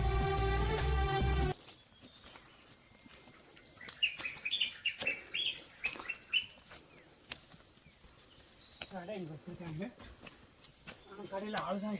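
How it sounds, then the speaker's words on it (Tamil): Birds chirp and call in scattered bursts amid a quiet forest backdrop, with a brief loud musical burst at the start and faint insect-like rustling throughout. "இங்க இருக்கும் பறவைகளின், பூச்சிகளின் சத்தத்தை கேட்டுக்கொண்டே ஏறலாங்க."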